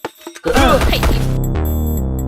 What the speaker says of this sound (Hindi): जिसने हमारी गाड़ी ठोक दी।